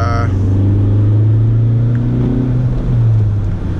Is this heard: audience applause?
no